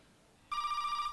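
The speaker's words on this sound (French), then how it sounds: "mon téléphone sonne." A telephone begins ringing abruptly with a bright electronic trill, a steady warbling tone that starts after a short quiet moment and continues to the end.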